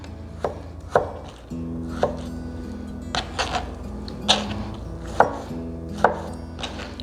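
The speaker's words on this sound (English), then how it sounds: "let's start on our tomatoes. Now these can just be in fairly large chunks." A knife cuts tomatoes into large chunks on a cutting board, making about a dozen sharp, separate chops at an uneven pace over a low background hum.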